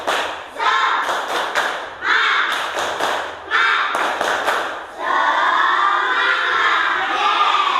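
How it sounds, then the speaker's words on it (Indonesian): Group of children performing a rhythmic clapping chant together, bursts of claps and thumps in patterned sets with lively crowd noise, then sustained cheering and shouting at the end. "Tepuk semangat."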